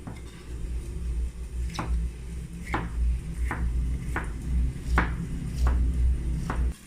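Bell pepper, seeded and washed, is cut into small pieces on a board: about eight separate knife taps at an uneven pace, fairly quiet and close, over a low steady background rumble.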